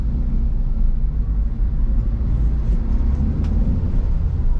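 A Toyota Avanza's engine pulls steadily in first gear, a loud continuous low rumble that holds even and near throughout with no pauses.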